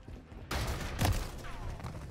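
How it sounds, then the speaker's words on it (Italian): A burst of rapid gunfire in Call of Duty Modern Warfare III cracks out suddenly, with a second sharp volley a moment later over background game noise. "Ho sparato per miss,"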